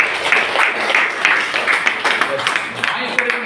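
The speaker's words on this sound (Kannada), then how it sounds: "ಚಪ್ಪಾಳೆ." A class of schoolchildren clapping in a classroom, a steady rhythmic patter of many hands at moderate loudness, mixed with young voices.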